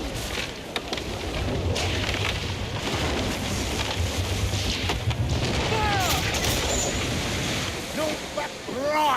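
Ship cannons firing in the video game Assassin's Creed Black Flag, deep booms rolling over constant ocean waves and wind, with crew shouting over the din.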